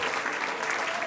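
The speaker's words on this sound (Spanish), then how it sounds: "Levántese, mi hermano, y dale aplauso al Señor." Church congregation clapping together during a worship service, a brief continuous wash of hand claps at steady moderate volume.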